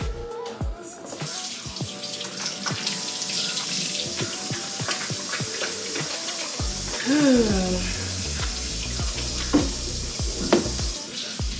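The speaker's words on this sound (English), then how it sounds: "Gotta wash my hands." Water runs from a kitchen tap as hands are washed underneath, a steady close rush broken by splashes and the clinks of small knocks, with a faint voice now and then.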